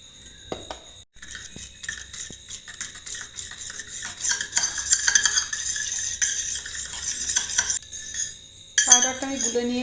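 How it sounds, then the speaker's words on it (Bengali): A spoon stirs custard powder into milk in a bowl, with rapid metallic scraping and clinking against the sides that builds in bursts, loud and close, with no voices. "সেই দুধেতে আমি একটু কাস্টার্ড পাউডার গুলে নেব।"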